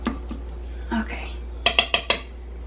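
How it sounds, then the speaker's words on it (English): A crockpot lid is set back on over a steady low hum, with faint soft handling first and then a quick cluster of four light clinks and rattles as the lid settles. "Lid back on."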